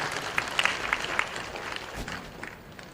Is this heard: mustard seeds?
no